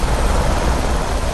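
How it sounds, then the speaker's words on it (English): A police helicopter in the video game The Crew, a loud, steady rotor and engine roar filling the short stretch with no talking. "Is that a police helicopter?"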